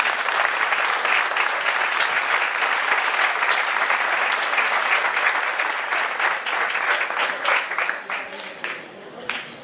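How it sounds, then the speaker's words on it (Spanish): Loud, sustained applause from an audience at a Gran Canaria folk dance festival in Telde, steady for several seconds and then thinning out toward the end. "Un aplauso."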